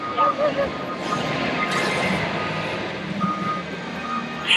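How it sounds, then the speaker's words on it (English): Forklifts load and unload trucks at an old corrugated cardboard processing site, letting out short reversing beeps amid a loud, steady rumble of machinery. "over here we've got the forklifts, where they are putting them on the trucks, taking them off trucks and putting them on trucks"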